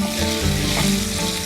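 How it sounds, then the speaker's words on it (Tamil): Small onions frying in a pan for a Tamil-style mutton curry, a dense steady sizzle with faint stirring running loud and unbroken through the short stretch. "சின்ன வெங்காயம் போட்டாச்சு."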